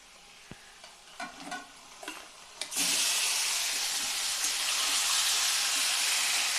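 Chicken dropped into a pan of onions frying with salt, bringing a few clinks and stirring knocks, then a sudden loud, steady sizzle that holds close and continuous.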